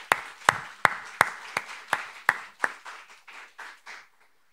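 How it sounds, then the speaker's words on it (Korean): A few members of a church congregation give encouraging applause at a Sunday service: about a dozen distinct, evenly spaced claps that grow softer and trail off. "현민이 격려하는 박수 한번 하겠습니다"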